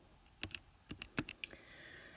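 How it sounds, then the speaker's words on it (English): Numbers are punched into a calculator: about nine quick, crisp button clicks in an uneven burst, close and fairly quiet, with no talking. "I'm literally just typing it in the calculator really quickly"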